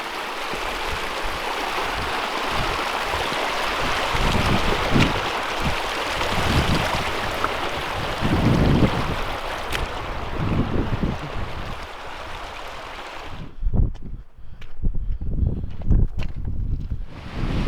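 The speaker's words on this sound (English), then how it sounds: "For the quick river crossing." River crossed on foot in Glen Nevis in the Scottish Highlands, rushing water loud and close with splashing steps, the flow cutting away near the end, leaving scattered footfalls.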